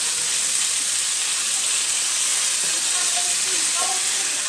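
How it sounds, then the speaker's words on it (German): A constant loud hiss and sizzle of cod searing in a hot pan, with faint clinks and distant voices underneath. "nachdem der Fisch jetzt bratet"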